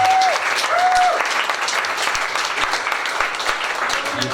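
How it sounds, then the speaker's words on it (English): Crowd applause for hiring partners at an app-learning event in Fort Lauderdale, loud sustained clapping from a full room, steady throughout with a brief tone sounding early on. "Let's give them a big round of applause."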